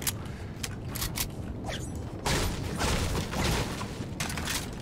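A wooden door creaks open in the video game Fortnite, a drawn-out grinding creak over steady in-game background noise, with sharp bursts breaking in at moments.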